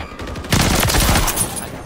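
Rapid gunfire bursts from Call of Duty Modern Warfare III kick in after a quiet start, loud and dense with overlapping shots, while a voice talks faintly underneath.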